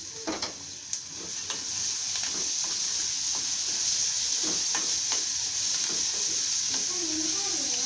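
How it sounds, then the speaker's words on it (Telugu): Peanuts sizzle in a hot frying pan for sago kichidi, a steady hiss with a scatter of crackles and scraping stirs throughout, heard close and fairly loud. "పల్లీల పప్పు వేస్తున్నాను."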